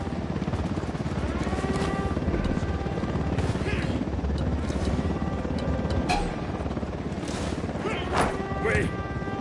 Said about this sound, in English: Chopper, hit the dirt.